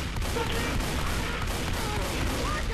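Relentless gunfire in the zombie shooter Left 4 Dead 2, a dense, loud barrage of rapid shots with no breaks, running steadily for the whole stretch.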